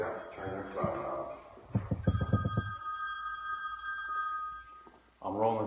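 A mobile phone rings with steady electronic tones during a behind-the-scenes shoot at a wood pellet grill event, starting after brief talk and sounding for about three seconds before people speak again.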